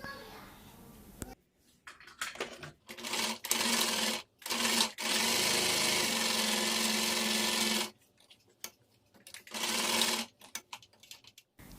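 Sewing machine stitching cloth for a homemade surgical face mask, close and loud, running in bursts of rapid whirring with short pauses and one long steady stretch in the middle; a voice speaks briefly at the start.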